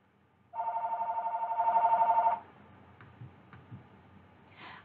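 An old-style telephone bell rings in one continuous trill for about two seconds in a quiet room, fairly clear, then stops, leaving faint clicks and low background noise.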